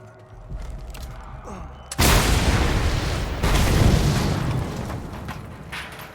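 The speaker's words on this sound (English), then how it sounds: "Explosion required" A barrel blows up in the Mad Max video game: a sudden loud, close blast that cuts in over quiet mechanical sounds, followed by a second rumbling burst and a long, roaring tail.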